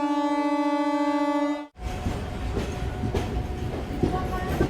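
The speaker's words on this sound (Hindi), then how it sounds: "चलिए सेमापुर से हमारी ट्रेन निकल चुकी है।" A MEMU passenger train departs Semapur station: a loud sustained horn tone cuts off, then a steady low rumble of the moving train follows with faint rhythmic rail clicks, heard from close on board.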